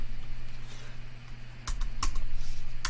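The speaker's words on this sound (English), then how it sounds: "type in kit." A few crisp keystrokes on a computer keyboard sound close up over a steady low hum, with no talk.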